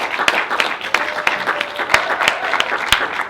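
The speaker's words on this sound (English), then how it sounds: "give yourselves a big round of applause" Applause from an audience at a community discussion event, sharp clap transients over a dense wash of clapping, fairly loud and close, lasting throughout.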